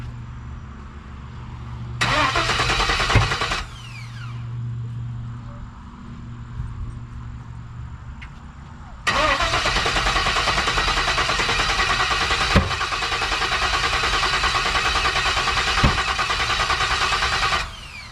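An LS-swapped 1970 Chevy C10 engine cranks and catches on its first start-up, then settles into a loud, steady idle with brief revs, after a shorter earlier attempt cuts off.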